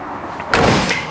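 A door on a 1973 Chevrolet Camaro Z28 swings shut with a single solid thud and a brief metallic latch click, close and loud, followed by a short fading rattle.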